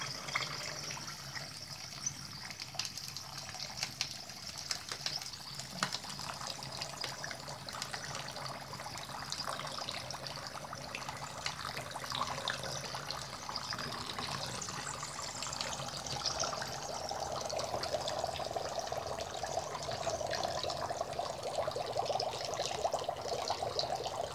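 Warm water poured onto dry ice, a faint continuous trickling and bubbling that slowly grows into a fuller, steadier gush toward the end.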